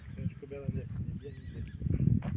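A young horse for sale whinnies close by, with hoof clops and handling noise, while a person talks over it briefly.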